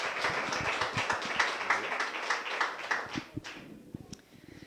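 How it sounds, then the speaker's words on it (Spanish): A church congregation applauds at the close of a prayer, a moderate burst of scattered clapping that thins out and fades toward the end. "Un aplauso al Señor"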